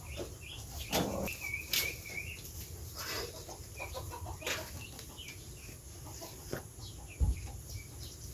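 Chickens scuffle and fight at dawn, with clucks, short squawks, and sudden bursts of flapping wings across the yard, fairly faint with scattered sharp thumps and no talk.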